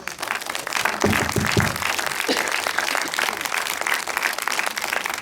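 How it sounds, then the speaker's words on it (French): Audience applause in a cinema after a film screening and Q&A, a dense, steady patter of many hands clapping throughout, with some talk mixed in at moments. "on peut encore les applaudir"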